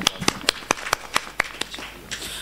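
Audience applause at an Urdu mushaira in Malegaon: a run of about a dozen sharp, spaced hand claps, fairly close and distinct, fading toward the end into a brief softer spatter.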